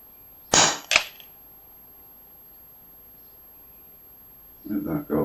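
An FX Wildcat Mk.3 air rifle fires at a target 50 yards off: a sharp crack followed by a quick second snap, then quiet before a brief burst of voice at the end.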